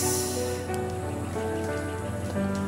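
Rain falling outdoors at a rural hillside site in Magallanes, Cavite, a steady broadband patter and hiss that continues throughout without talk, with faint tonal background hum underneath.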